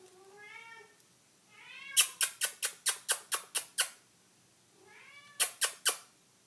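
A cat gives a few short, rising mews, followed by bursts of sharp, rapid clicking pulses, then another mew and more clicks, close and clear against a quiet room.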